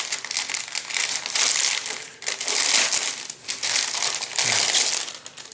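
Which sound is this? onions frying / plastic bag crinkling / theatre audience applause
plastic bag crinkling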